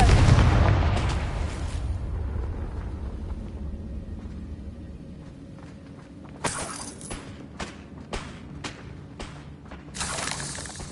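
A loud Confringo blasting-spell explosion from Hogwarts Legacy opens with a deep, heavy boom that slowly decays, followed by a scatter of sharper cracks and smaller bursts spaced out over the following seconds.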